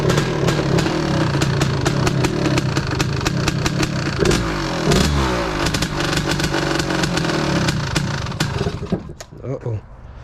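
A 1986 Honda TRX250R ATV with a stroker two-stroke engine, still cold, runs and revs close by, rasping loud with rapid popping pulses and rising and falling throttle blips, then fades toward the end.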